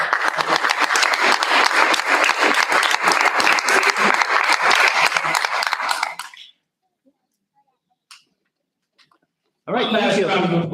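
At a school board meeting, a room claps for the high school students of the month. The applause is loud and steady for about six seconds, then fades into near silence before clapping swells again at the end.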